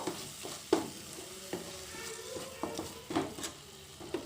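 Spice masala stirred and mixed in a pan for shrimp malai curry: soft frying sizzle under repeated scraping and tapping strokes of a spatula, fairly quiet and close, no talking.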